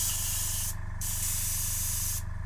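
An airbrush sprays water as it is cleaned, a continuous close hiss that stops briefly twice before resuming.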